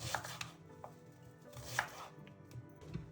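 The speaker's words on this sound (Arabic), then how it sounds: "هنقطعها عندنا على شكل شرايح كده جوليان" A large onion being cut into julienne slices with a knife, heard as a few scattered, fairly quiet taps on a board over a faint background hum.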